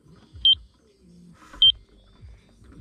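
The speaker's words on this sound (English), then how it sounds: "It'll beep that high pitch, or lower volume. That real fast beep, that means I need to go down." A laser receiver emits two short, clear high-pitched beeps about a second apart while searching for the laser beam during a foam board install for radiant floor heating, with low handling noise between them.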